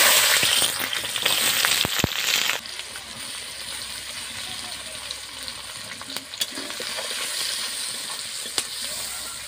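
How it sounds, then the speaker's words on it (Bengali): Chopped onion, garlic, green chilli, turmeric and chilli powder frying in oil as a masala for potato balls, giving a steady broadband sizzle with a louder burst early on and a few sharp clicks of stirring throughout. "মশলাটা আমি খুব সুন্দরভাবে ভেজে নিয়েছি"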